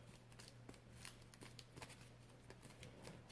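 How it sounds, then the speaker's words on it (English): Loot cards from a Shadows of Brimstone board game being shuffled by hand, a steady run of soft riffling slaps and flicks over a low constant hum, close and moderately quiet. "Shuffle these up."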